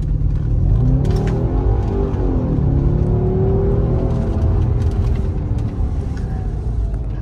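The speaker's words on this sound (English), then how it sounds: "That's what the car sounds like." An Audi B7 S4 Avant's engine and exhaust, a loud deep rumble that rises and falls as the engine revs, held close and continuous with no talking.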